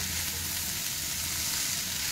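Cabbage fries in butter in a pan for a vegetable soup. A steady, even hiss and sizzle runs throughout with no talking.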